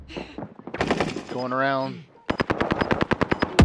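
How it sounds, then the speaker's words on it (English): Rapid bursts of automatic gunfire in a Call of Duty Rebirth Island match, loud and close, cutting in between stretches of voices: a player talks first, then a burst of sustained rattling fire ends the clip. "They're shooting at me from downstairs."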